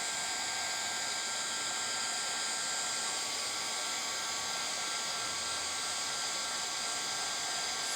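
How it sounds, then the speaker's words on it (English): Heat tool used for craft embossing blows hot air in a steady, high-pitched whir that runs unbroken the whole time, fairly faint with no talking. "want to use caution when using a heat tool because they do get very hot."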